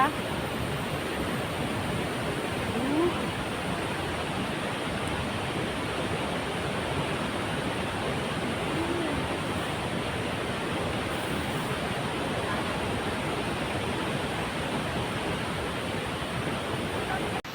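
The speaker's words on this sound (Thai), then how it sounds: "นี่ค่ะเห็นไหมคะเสียงน้ำตก เสียงน้ำตกค่อนข้างที่จะดังมากๆเลย" Tat Yueang waterfall roars with a dense, steady broadband rush of falling water, loud and continuous throughout with no let-up.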